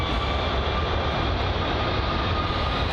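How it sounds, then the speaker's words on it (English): Virgin Atlantic airliner at London Heathrow spooling up its engine on the ground, a steady, loud broadband roar with a faint high whine, continuous and unbroken throughout. "That's the Virgin Atlantic's engine spooling up on the ground."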